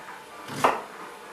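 A single knife chop through vegetables on a board for a hearty soup, one brief crisp thud, close and fairly quiet.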